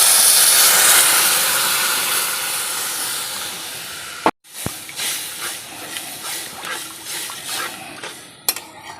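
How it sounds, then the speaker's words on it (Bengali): Water is poured into a hot pan of thick, well-fried gravy for a papaya and paneer kofta curry, giving a loud steamy hiss that cuts out sharply, then a few clanks of a spoon against the pan as it settles to a softer sizzle. "এখন আমি জল দিয়ে দেবো।"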